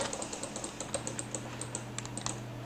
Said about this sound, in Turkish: Shift artı mouse'la sağ klik yapıyorsunuz.